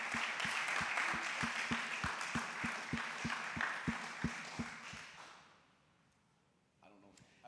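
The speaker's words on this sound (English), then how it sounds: "huge round of applause for all of you just taking the courage to do this" A crowd at a Cincy AI Week event applauds in a dense, steady wash while a regular thumping beat runs under it. The clapping fades out near the end, and faint voices follow.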